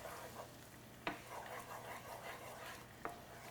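Garlic and shallots stirred with coconut in a pot, a soft steady sizzle running throughout with a couple of sharp utensil scrapes against the pot.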